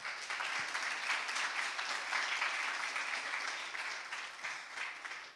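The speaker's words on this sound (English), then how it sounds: "Let us now express our appreciation with a resounding round of applause." A school audience at a student talks event applauds steadily, a dense, even wash of many hands clapping at moderate distance, sustained without pause and with no voices over it.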